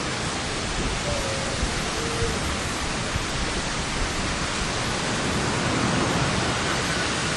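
Ocean waves making a dense, steady wash of broadband surf noise that stays even and continuous throughout, with no distinct individual breaks and no voices.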